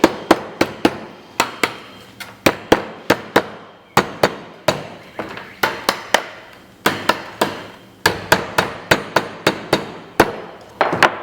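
Hammer blows striking the frame of a quail cage being built on a farm, loud close sharp bangs in quick irregular bursts of several hits, repeating steadily with short pauses, no talking.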